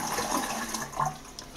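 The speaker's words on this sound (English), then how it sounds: "This is a half flush." Fluidmaster dual flush toilet valve gives a half flush, water rushing and gurgling through the cistern at moderate volume, surging briefly and then tapering off.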